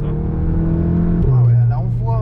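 A Volkswagen Golf 7 GTI with a stage 1 tune accelerates hard from inside the car. The turbo engine drone is loud and steady, then the pitch drops briefly at a gear change and climbs again, with people talking over it.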